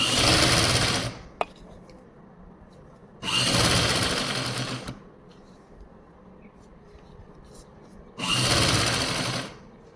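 An electric sewing machine stitches an Afghani trouser laid over foam, running in three loud bursts of rapid whirring separated by quieter pauses, close by.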